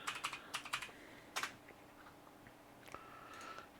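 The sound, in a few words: typing on an extremely loud computer keyboard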